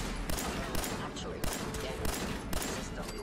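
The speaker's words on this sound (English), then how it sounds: "and then they're shooting me" Bursts of enemy gunfire in Fallout 4 strike around the player, several sharp volleys spaced roughly half a second apart over a dense, loud background of game noise.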